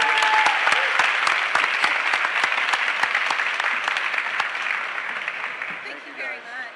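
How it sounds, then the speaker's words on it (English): Steady applause from a crowd, sharp claps rolling on for several seconds before thinning out, with voices faintly audible beneath. "Clap it up for them again, guys."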